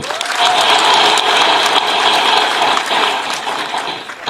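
A crowd applauds at a Bangladeshi political gathering, with loud, dense, steady clapping filling the whole stretch close by and no voices above it.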